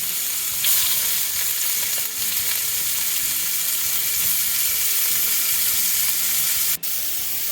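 Rump and fillet steaks fry in hot beef tallow in a pan, a loud, steady, close sizzle that fills the whole stretch with only a brief clink near the end.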